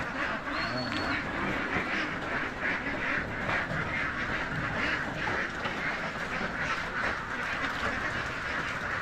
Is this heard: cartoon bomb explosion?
no